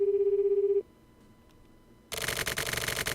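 A video game telephone gives a steady electronic ring tone that cuts off. A quiet pause follows, then a loud burst of crackly, buzzing line noise.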